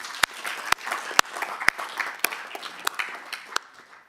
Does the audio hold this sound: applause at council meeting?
yes